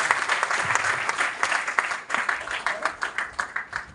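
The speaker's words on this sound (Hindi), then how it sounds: "एक बार जोरदार तालियां ही हो चाहिए" A seated audience at a motivational event in Gwalior breaks into loud, energetic applause, many hands clapping in a dense roar that swells and then thins into sharper, more separate claps toward the end.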